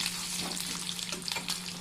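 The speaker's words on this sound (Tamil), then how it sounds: "இதே காஞ்ச மிளகாவும் பச்சை மிளகாவும் போட்டுக்கலாம்." Dried red and green chillies fry with urad dal lentils in hot oil, giving a steady close crackling sizzle with light stirring, no voices.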